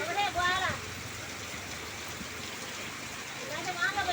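Rain driven by strong wind pours steadily, a dense continuous hiss close by, with brief faint voices or bird-like chirps near the start and end.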